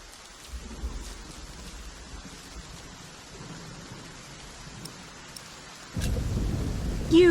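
Steady rain hisses throughout a stormy scene in the video game The Pillars of the Earth, with low rumbles of thunder that swell louder toward the end.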